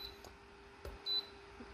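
A short electronic beep from a button press on a FLANUR 1500W indoor space heater's timer, a single clear tone heard alone against a quiet room hum.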